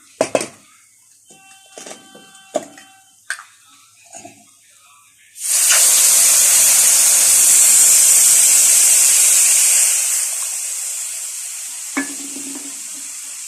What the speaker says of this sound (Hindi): और अब मैं इसके अंदर पानी ऐड करूँगी।